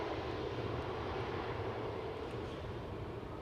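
A jet airliner arriving on the Polderbaan runway 18R at Amsterdam Schiphol produces a broad, continuous roar that stays loud and steady throughout, with no talking over it.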